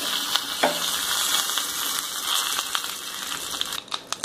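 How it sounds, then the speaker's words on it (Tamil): Dried red chilies and curry leaves sizzling in hot oil for a groundnut chutney tempering, a dense steady crackle with scattered sharper pops and a burst of louder spitting near the end, without talking. "காஞ்ச மிளகாய் சேர்த்துக்கோங்க. அடுத்தது கருவேப்பிலை சேர்த்து"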